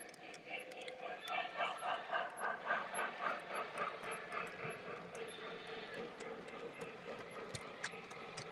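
A newly run model train locomotive with a tender, being broken in on a layout, gives off a steady whirring drone with a rhythmic pulsing beat that swells early and then settles into an even hum.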